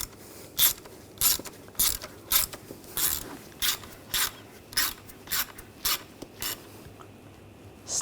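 Close, rhythmic ratchet clicks tighten bolts on a 2007-2013 BMW X5 3.0L inline-six engine, a dozen or so sharp pawl strokes at a steady pace, with no voices.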